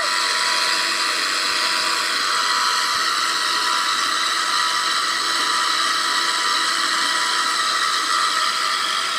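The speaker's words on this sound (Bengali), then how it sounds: "পাম্প মেশিন কীভাবে আলু খেতে জল দিচ্ছে" A pump machine watering a potato field runs steadily and loudly close by, its dense mechanical whir and hiss continuous with no pauses.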